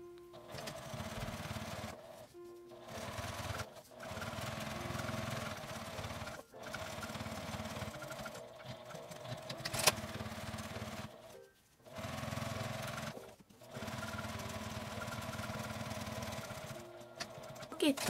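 A sewing machine stitches fabric for a wall pocket, running in several steady bursts of mechanical whirring separated by short pauses, close and fairly loud with no speech over it.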